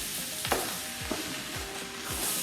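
Chicken fried rice with soy sauce sizzles loudly in a pan as it fries, with a steady hiss and a few scraping stirs of a utensil at regular intervals.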